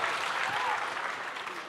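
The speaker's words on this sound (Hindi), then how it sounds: "जोरदार तालियां" An audience at a live literary festival event breaks into steady clapping, with dense applause filling the room at moderate volume throughout.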